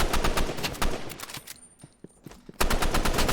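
Rapid automatic gunfire from a Roblox shooter game rattles in dense bursts, stops briefly for a quieter gap with a few isolated shots, then resumes at full intensity, close and loud with no talk.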